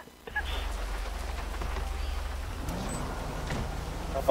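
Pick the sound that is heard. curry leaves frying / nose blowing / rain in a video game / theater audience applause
rain in a video game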